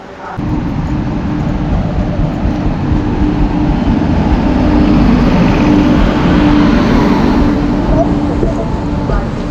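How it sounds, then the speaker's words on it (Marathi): The late-running Indore–Kochuveli train at a station platform: a loud, continuous rail rumble fills the whole stretch, with voices in the crowd around it. "इंदोर कोचीवेली ही राहिलेली ट्रेन होती उशिरा उशीर झाला या ट्रेनला"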